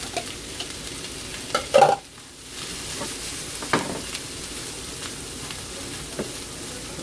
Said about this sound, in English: Now we're going to go ahead and saute off our onions.